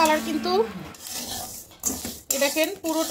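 A spoon scrapes and clinks in a pan as rice, mung and masoor dal are slowly stirred while frying, giving steady close scraping with brief pauses and a voice talking over it.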